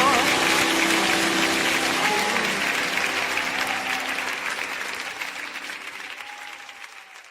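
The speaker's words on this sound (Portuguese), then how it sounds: "Aplauda o Rei dos Reis" Congregation applause at a church service, a loud, dense wash of clapping that gradually fades toward the end, with a sustained musical tone lingering beneath it.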